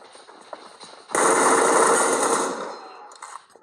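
Rapid automatic gunfire from a shooting game played on a tablet, one dense, loud rattling burst of about a second and a half that starts abruptly and tails off, with quieter background noise before and after.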